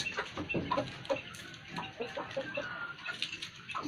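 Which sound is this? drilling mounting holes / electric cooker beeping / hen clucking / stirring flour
hen clucking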